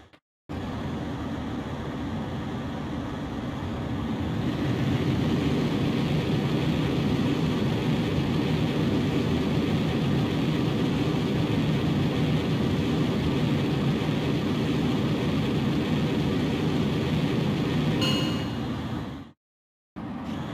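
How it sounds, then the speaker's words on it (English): Fighter jet in the video game Ace Combat X taking off, a steady loud roaring engine rush that swells after a few seconds and holds, with a brief high ring near the end before it cuts out. "Griffith 1, you are cleared for takeoff."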